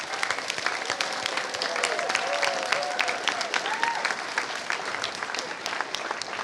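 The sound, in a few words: audience applause for parents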